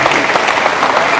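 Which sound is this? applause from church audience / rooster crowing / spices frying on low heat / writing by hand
applause from church audience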